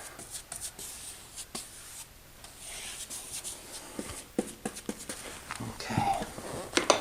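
A brush cutting in finish along the edge of a hardwood floor during refinishing, with close, soft swishing and scraping strokes in an irregular rhythm, growing busier and louder toward the end.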